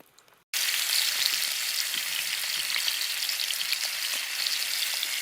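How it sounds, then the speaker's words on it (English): Bacon and sausages sizzle steadily in a frying pan on a camping burner during a wild camp on Dartmoor, a loud, close, continuous crackling hiss that starts abruptly after a quiet moment. "Frying pans on the go, so I'm going to do myself a bacon and sausage sandwich"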